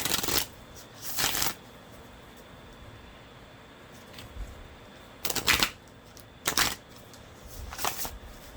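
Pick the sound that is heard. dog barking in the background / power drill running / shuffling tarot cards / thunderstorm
shuffling tarot cards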